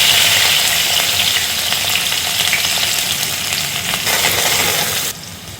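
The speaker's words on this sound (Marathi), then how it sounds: "शिमला मिर्च चांगल्या मोठ्या गॅसवरच आधी होऊन द्यायची" Capsicum frying in oil and butter over a high flame, a loud steady sizzle with crackling that fills the clip and drops off abruptly near the end, no voices.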